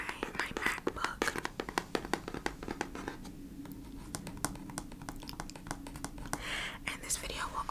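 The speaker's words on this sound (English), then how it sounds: "this video will also feature typing sounds, keyboard sounds" Fingers type on a MacBook keyboard in quick, close, crisp clicks that run steadily throughout, with soft whispering over them.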